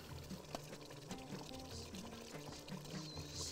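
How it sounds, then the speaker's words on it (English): Rice is poured into a cooking pot for a Bahraini dish, a soft, faint rushing patter with light ticks against a steady kitchen background. "now I'm going to add the rice in there."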